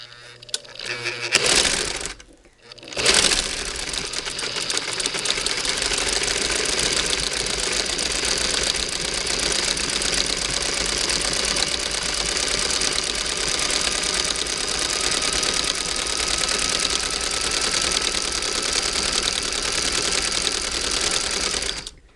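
A 1959 Singer Spartan sewing machine with a new motor stitches through thick sweatshirt fleece, a loud steady mechanical whir with rapid needle clatter that runs continuously after a brief stop-start at the beginning.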